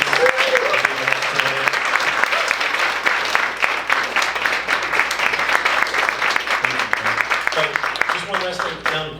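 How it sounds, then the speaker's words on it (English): A crowd applauds loudly and steadily for several seconds, dense clapping filling the room with a few voices mixed in. "can we give a round of applause to Nick Powers, please?"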